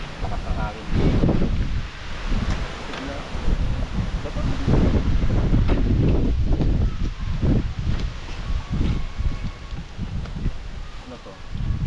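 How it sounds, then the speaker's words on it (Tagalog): Strong wind gusts steadily across a moto camping site at a leisure farm in Mauban, Quezon, a loud continuous rumble with microphone buffeting and rustling, while people talk under it. "Lakas ng hangin dito."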